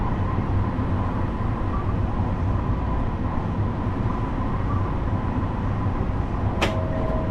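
A locomotive in the railway game Train Sim World 2 runs with a loud, unbroken low rumble and engine drone. A brief sharp click comes near the end, and no voices are heard.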